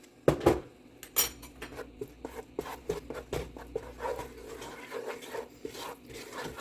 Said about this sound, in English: I'm going to add just a tiny bit more oil so that I can get this roux going